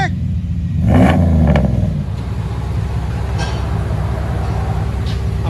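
A 2002 Dodge Ram with the 5.9-liter V8 and Magnaflow Magnapack dual exhaust revs up once in a loud, deep, close blip, then drops back to a steady low idle rumble.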